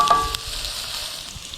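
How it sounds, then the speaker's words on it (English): Onion fries in a skillet with a steady, moderately close sizzle and a few small pops, heard alone. "So let's let this onion cook up just for a minute"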